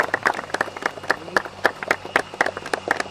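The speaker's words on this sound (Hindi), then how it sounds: "तालियां बजती रहनी चाहिए" Scattered claps from an audience at a cricket talent hunt awards presentation welcome coach Ved, sounding as sharp, fairly regular hand claps rather than a dense ovation, fairly close and steady throughout.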